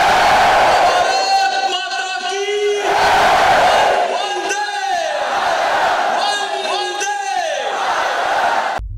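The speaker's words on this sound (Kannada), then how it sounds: "ಮಿತ್ರರೇ, ಒಂದು ಸಲ ಭಾರತ್ ಮಾತೆಗೆ ಒಂದು ಜೈಕಾರ ಹಾಕೋಣ." A large crowd at a rally shouts a loud chant of praise to Bharat Mata in repeated waves, with a leader's voice calling out each line over a PA and the crowd roaring back.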